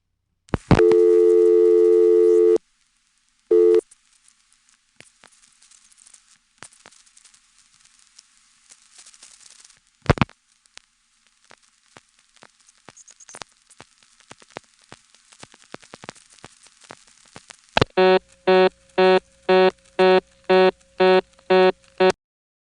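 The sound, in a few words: telephone line tones after dialing 711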